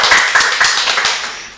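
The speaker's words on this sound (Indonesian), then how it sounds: "Tepuk tangan dulu" A short burst of clapping during a school accounting-program podcast: a handful of sharp, distinct claps in quick rhythm, close and loud, tapering off within moments.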